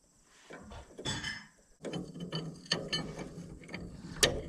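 A wrench works at a badly rusted bolt on an old farm truck, making short metallic ratcheting clicks and scrapes in bursts, fairly faint and close.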